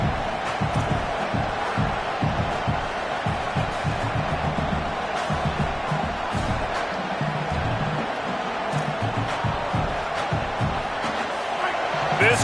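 Football stadium crowd at a CSFL game in Florida, a dense continuous roar of many voices with scattered shouts, steady and loud throughout under a commentator's talk.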